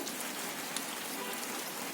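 Steady rain falling on a rooftop, a dense, even patter of drops that fills the whole stretch at moderate volume with no pauses.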